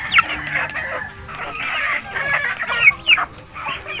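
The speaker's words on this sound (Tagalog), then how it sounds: "May iba naman, mix na yan na native at saka Rhode Island Red." A mixed flock of native and Rhode Island Red chickens clucks nearby. Repeated squawky calls rise and fall over a few seconds, fairly loud and without talk.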